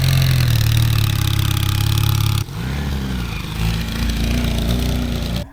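A vintage Honda or Suzuki motorcycle engine runs close by in a loud, steady idle with a low throbbing rumble, then shifts to a slightly different idle pitch partway through.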